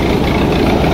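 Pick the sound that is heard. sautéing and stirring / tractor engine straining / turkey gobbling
tractor engine straining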